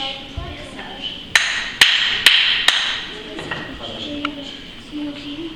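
A stone biface hand axe is knapped by hand in a prehistory museum demonstration: four sharp, loud stone-on-stone knocks land about half a second apart, then fainter scraping and ticking follow, close by.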